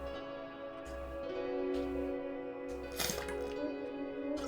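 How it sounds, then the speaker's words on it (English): Someone gulps water in several rhythmic, low swallows close to the microphone, with a wet drip-like quality, over sustained eerie music from the horror game Fear & Hunger 2: Termina. "It was me drinking water. An awful noise."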